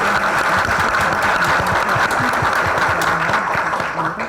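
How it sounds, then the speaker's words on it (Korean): Audience applause at an AIDS awareness seminar, a dense and steady wash of clapping from a large crowd that continues throughout and only tapers slightly at the end. "우리 격려의 박수 한번 부탁드립니다"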